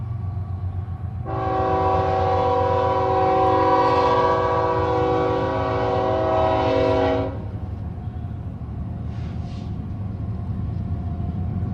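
A train passes close with a deep continuous rumble while its horn blares loudly for about six seconds, then the rumble carries on after.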